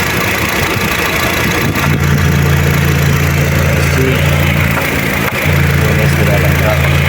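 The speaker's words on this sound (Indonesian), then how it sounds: "suara mesinnya masih halus banget dah ini guys ya" A 2021 Honda HR-V SE engine with about 100,000 km idles smoothly in a steady mid-pitched hum, heard close with a person speaking over it.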